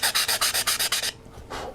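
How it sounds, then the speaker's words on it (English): Close, quick back-and-forth rasping strokes of a sanding stick on a model rocket, about seven even rubs in a rhythm, then a pause and one more scrape. "I'm going to take my sanding stick and I'm going to start sanding away at it"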